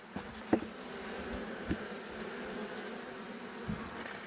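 Honey bees buzz steadily around an unusually built hive during an inspection, a continuous close drone with a few brief louder passes of single bees.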